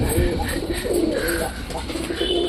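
A pigeon calls in repeated low coos amid steady background noise, with some talk mixed in.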